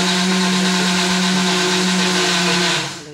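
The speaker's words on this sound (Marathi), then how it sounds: "मिक्सरला सर्व पुरण वाटून घेतलं." A kitchen mixer grinder whirs loudly as it grinds cooked chana dal into puran, a steady high-pitched motor drone with a constant hum that winds down at the end.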